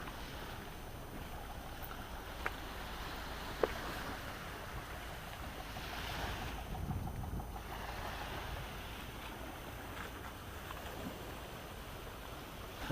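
Waves wash softly onto the beach at a resort in Side, Antalya, a faint, steady hiss of surf mixed with breezy wind, heard from a distance.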